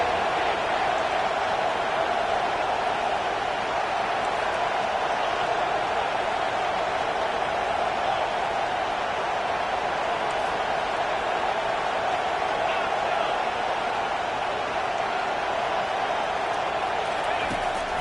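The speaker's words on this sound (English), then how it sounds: "3rd down, and this crowd is tearing the lid off this place" Football stadium crowd roaring on a third down late in the game, a dense, unbroken wall of cheering noise that holds steady and loud for the whole stretch.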